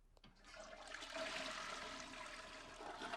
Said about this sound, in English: Oh, 10 out of 10 on that toilet flush, for sure.